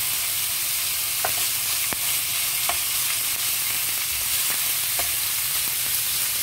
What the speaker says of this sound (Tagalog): So we need to fry it a little bit brownish.